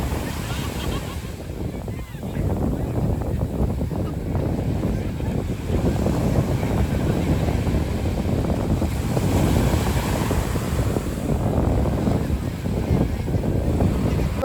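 Sea waves roll onto a seashore in a steady, loud wash, with heavy wind buffeting the microphone.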